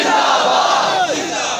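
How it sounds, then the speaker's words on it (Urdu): Crowd at an Urs gathering with a religious address, chanting slogans in unison as one loud, sustained mass of voices with no pauses. "تسی دو نعرے لاؤ"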